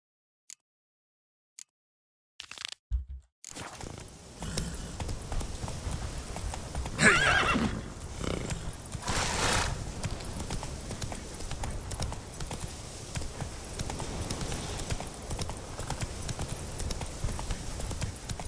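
A horse in The Witcher video game galloping with rhythmic hoofbeats and loud neighs after a few isolated clicks and a brief pause, continuing steadily at close range.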